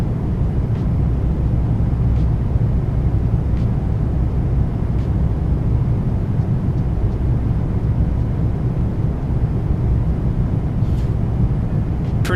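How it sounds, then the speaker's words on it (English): Continuous low engine and airflow roar of a Boeing 737 MAX 8 coming in to land on a closed runway in the iFly flight simulator, steady and loud throughout with no talking. "We're landing on a closed runway out here."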